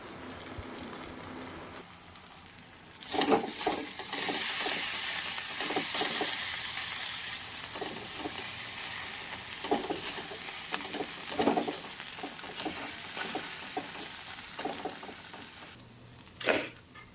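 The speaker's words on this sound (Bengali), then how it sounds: "তো এগুলো দিয়ে ভালো করে কষিয়ে নেব মশলাটা" A masala of salt, turmeric, chili powder and cumin powder sizzles steadily in a pan in a village kitchen, with a hissing fry broken by soft scraping strokes of stirring.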